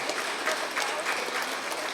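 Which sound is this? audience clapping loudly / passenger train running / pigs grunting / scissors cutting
audience clapping loudly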